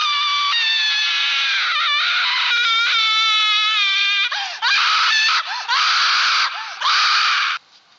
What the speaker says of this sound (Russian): Я не буду слушать твои прекрасные крики.